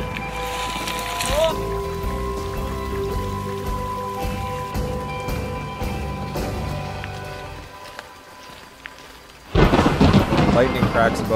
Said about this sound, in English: Lightning cracks above the ridge and hail begins to fall